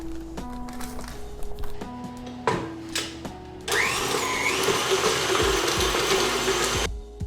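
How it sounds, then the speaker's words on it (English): Electric stand mixer creaming softened butter at medium speed for cookie dough, a steady loud motor whir that starts partway in after some clinks and tonal beeps, then runs continuously before cutting off. "We're just going to stick that into our mixer and then turn it on medium speed for about 2 to 3 minutes"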